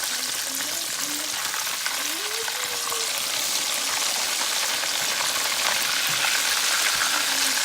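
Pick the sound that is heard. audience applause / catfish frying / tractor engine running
catfish frying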